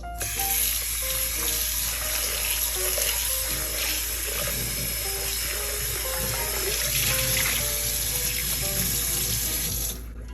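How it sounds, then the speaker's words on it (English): Water runs steadily from a kitchen tap while a Staub cast iron cocotte is rinsed in the sink, a continuous close hiss with faint clinks of the pot beneath it. "All right, so let's give it a rinse."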